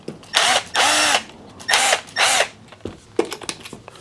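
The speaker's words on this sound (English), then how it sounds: "let's take a look at how these work with a little impact driver" A small Milwaukee M12 impact driver drives a screw in short, loud, close bursts of whirring, four main runs followed by a few brief blips and clicks.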